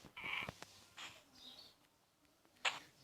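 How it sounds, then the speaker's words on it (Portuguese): Birds chirping in the video game Survivalcraft: faint, sparse high tweets and short calls scattered over a quiet background, with a sharper chirp near the end. "Tem mais passarinhos."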